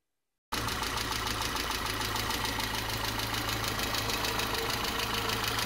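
A Peugeot Citroën 1.4i petrol car engine, freshly reassembled after cylinder head and timing work, idles steadily and close with an even rhythmic chatter after a brief silent start.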